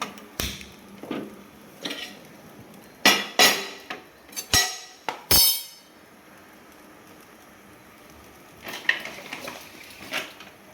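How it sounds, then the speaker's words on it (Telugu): A metal pan is set onto a kitchen stove with a series of sharp clanks and knocks, close and loud, followed by quieter rattles, with no voices. "ఇప్పుడు స్టవ్ ఆన్ చేసుకొని పాన్ పెట్టేసుకుందాం."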